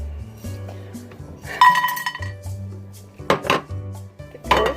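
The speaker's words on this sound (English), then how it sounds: "Mix it up real good. Add it into a saucepan." Ingredients being mixed in a saucepan in a home kitchen, with metallic clinks, utensil scrapes and pot clatter in uneven bursts over a low steady hum.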